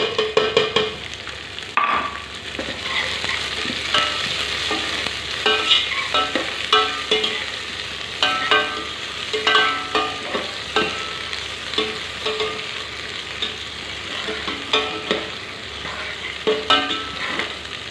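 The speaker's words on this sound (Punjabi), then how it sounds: "ਹੁਣ ਇਹਦੇ ਵਿੱਚ ਆਪਾਂ ਇਹਦਾ ਹਰੀਆ ਲਸਣ ਦੇ ਗੰਡੇ ਲਏ ਸੀਗੇ ਉਹ ਪਾਵਾਂਗੇ ਭੁੱਜਣ ਦੇ ਵਿੱਚ ਹੀ" Chopped green garlic fries in a pan for a Punjabi besan kadhi, with a continuous bright sizzle broken by frequent scraping stirs of a spoon.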